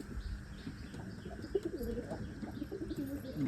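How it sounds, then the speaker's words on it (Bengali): Pigeons coo in low, soft rolling calls close by, with a few faint chirps and light fluttering in the background, quiet overall and no talking. "একটা পায়রা হয়তো এসছে কোথাও থেকে,"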